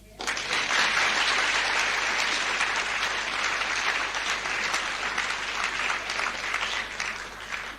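Sustained audience applause at a golden anniversary celebration evening in 1987, thanking a performer of stage magic; steady, full clapping from a sizable crowd, moderately loud throughout without pause.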